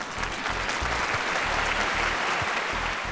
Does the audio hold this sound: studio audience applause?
yes